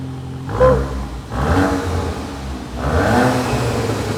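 A 2024 Volkswagen MK8 GTI with its muffler deleted revs three times in succession. Each rise in engine pitch falls back into a throaty, burbling exhaust note, heard nearby with no talking.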